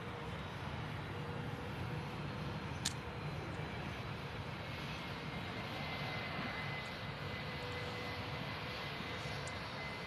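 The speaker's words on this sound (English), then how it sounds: "Jet 2 757-200 series coming in." A Jet2 Boeing 757-200 arriving at Manchester Airport, its jet engines giving a steady, loud broadband roar that holds throughout without voices.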